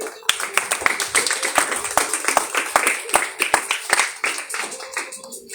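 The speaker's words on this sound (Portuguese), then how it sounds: "Aplaudam Jesus." A church congregation claps together in a dense, rhythmic burst of many hands, loud and close, with voices mixed in beneath the applause.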